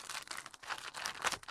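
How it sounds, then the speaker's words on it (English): A plastic bag crinkles and rustles as it is opened by hand, a close, busy run of crackling lasting about a second and a half with no talk. "So if we look inside the plastic bag of doom"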